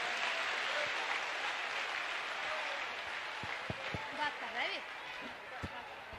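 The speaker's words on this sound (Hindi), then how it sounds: "बिटिया के लिए खूब ताली बजाओ, खूब जोर से बजाओ" An audience at a religious gathering claps for a girl, a dense, steady wash of applause that fills the whole stretch, with a few sharper slaps and a voice briefly audible near the end.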